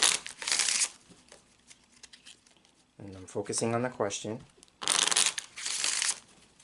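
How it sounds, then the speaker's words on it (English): Petit Etteilla cards shuffled by hand, two bursts of brisk papery riffling and rustling close up, separated by a stretch of a person speaking. "you want to shuffle the cards some more"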